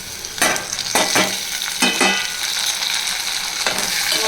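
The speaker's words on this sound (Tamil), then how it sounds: "இப்போ நம்ம டொமேட்டோ சேர்த்துப்போம்." Tomatoes drop into a pan of fried onions for a Tamil poricha kuzhambu, giving a loud steady sizzle with a few sharp stirring scrapes early on.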